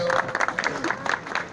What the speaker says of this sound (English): A round of applause, friends.